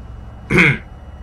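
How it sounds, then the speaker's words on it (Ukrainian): A single heavy, rasping cough in the video game Among the Sleep, short and close, standing alone against a quiet background. "Такий важкий кашель, слухайте."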